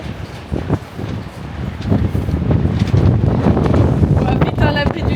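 Strong gusting wind with rain buffeting the microphone on the deck of a cruise ship, a rough, rising roar that builds and holds, with people talking underneath.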